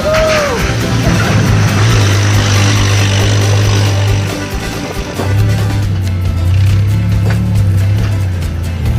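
A Willys flathead engine idles with a deep, steady low rumble, dips briefly midway, then settles back into its loud, even grunt with slight revving swells.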